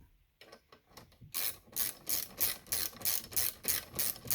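A ratchet tightens 5/16 bolts on a handlebar clamp during a McCulloch SP81 build. It starts with a few soft clicks, then settles into a loud, close, rhythmic run of about ten evenly spaced ratcheting strokes.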